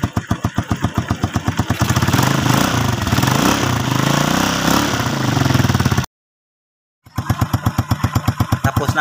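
A Rossi Macho 125 motorcycle engine idling after a tune-up, loud and close with a rapid, even putter that briefly rises to a rougher, revved tone mid-clip, then cuts out abruptly before the steady idle resumes.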